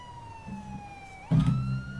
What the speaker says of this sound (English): is no one gonna notice that there's a siren going off